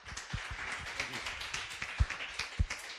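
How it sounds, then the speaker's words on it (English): Scattered claps from a small forum audience in Hong Kong welcoming a startup founder to the stage, sparse and uneven, with a few sharper, louder claps standing out over a quiet room. "let's give a big round of applause to Matt"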